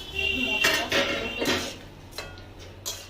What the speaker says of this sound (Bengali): ঢাকনাটা তুলে দেখুন